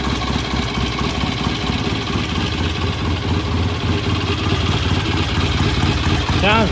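A BSA A65 motorcycle engine idles steadily and evenly while warming up, a continuous close, loud, low putter with a small gas leak in the fuel system, running alone without talk.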